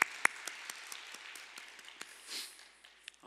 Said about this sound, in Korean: 우리 삶 속에 일하시는 하나님께 감사와 영광의 박수 올려드릴까요?